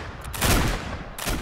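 Gunfire in a line battle, with sustained broadband volleys swelling to a peak near the middle and then returning in a second burst at the end, loud and without talk.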